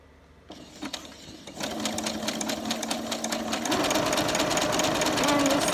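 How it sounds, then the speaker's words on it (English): A sewing machine stitches 1-inch elastic for face masks in a straight line, starting after a brief pause and speeding up in stages into a fast, even mechanical whir with rapid needle clatter, close and prominent. "And just sew it down in a nice straight line."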